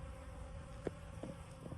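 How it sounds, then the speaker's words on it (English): A faint, steady buzzing of many thirsty bees gathered at water in the desert, a low droning hum with a few brief louder passes of individual insects. "Thirsty bees."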